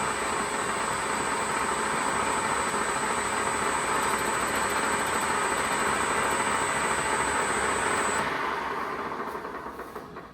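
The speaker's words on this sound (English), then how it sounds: "we're gonna turn the lathe on" A lathe spins a copper blank for metal spinning a ladle bowl, giving a loud, steady whirring hiss with a high whine that stops near the end as the machine winds down.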